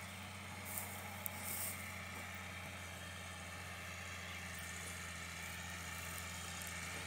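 A John Deere 7500 tractor of 140 hp drones steadily while pulling a 40-disc harrow in a field, a low continuous engine hum heard at a distance, faint and unchanging.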